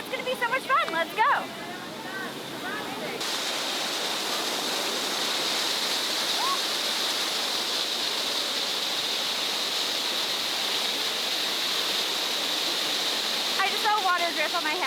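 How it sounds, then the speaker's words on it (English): Steady rushing spray of water jets shooting overhead in a walk-through tunnel in Peru, pouring continuously, loud and close, with brief excited voices at the start and end. "It's just water shooting over you, and you walk through"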